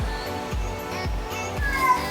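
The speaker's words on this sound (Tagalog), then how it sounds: "ang ingay mo ang ingay guys ang pusa ko." A house cat meows noisily and repeatedly indoors, its loud cries rising over a steady background hum in a continuous stretch.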